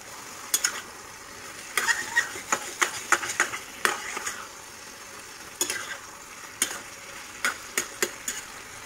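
Fish frying with colocasia stems in a pan, with a soft sizzle underneath and bursts of sharp spatula scrapes and clacks as the mixture is stirred in uneven rhythmic runs.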